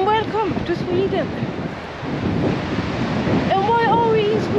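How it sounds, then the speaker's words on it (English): Strong, cold wind buffets a microphone outdoors in Sweden, a loud, rumbling gusty roar running throughout, with voices talking over it at the start and end. "Super cold and super, super windy."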